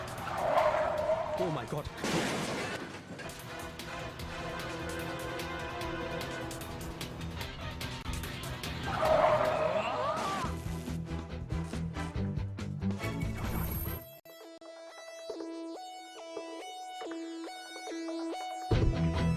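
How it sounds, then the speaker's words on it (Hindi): A film-production car with failed brakes skids loudly and crashes, tires screeching under an excited shout, before the noise drops away and music takes over. "गाड़ी के ब्रेक फेल, लाखों की प्रोडक्शन की गाड़ी का नुकसान"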